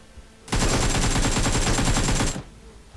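A burst of rapid automatic gunfire from the mobile battle-royale game PUBG Mobile is loud and dense, runs for about two seconds and then stops abruptly, with no talk over it.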